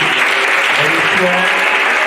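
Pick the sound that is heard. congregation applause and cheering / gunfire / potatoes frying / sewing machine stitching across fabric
congregation applause and cheering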